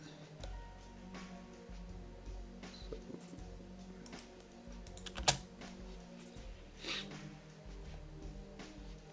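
Rapid computer keyboard typing as game commands are entered in the Goblin Camp colony-building game, close and steady clacking with a few louder key hits, alone without talk.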